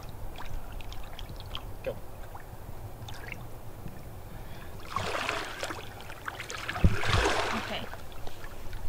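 A Nile monitor lizard swimming in the wild, with soft water swishes and splashes that build into two louder surges near the end, while a person speaks briefly over it.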